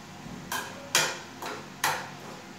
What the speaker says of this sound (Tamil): லைட்டா வதக்கியாச்சு